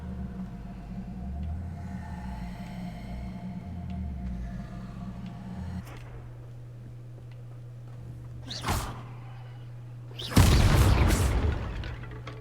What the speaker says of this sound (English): Unless I can explode this right here.